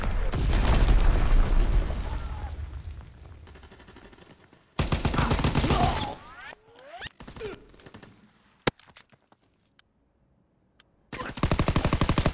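Mortar rounds firing and exploding in a capture-the-flag match on a docks map, with loud bursts of booming impacts and rattling fire separated by quieter gaps and isolated sharp cracks.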